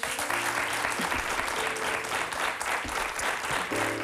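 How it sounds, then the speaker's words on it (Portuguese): Applause from a studio audience for a speech therapist on World Voice Day, a steady, fairly dense patter of clapping heard throughout with some low tonal hum or music beneath it. "Um aplauso para a Ana."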